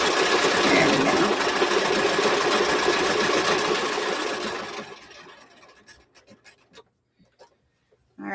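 A sewing machine stitches an applique onto a T-shirt with a steady, fast mechanical whir for several seconds. It then slows and stops, leaving a few soft clicks and fabric handling sounds.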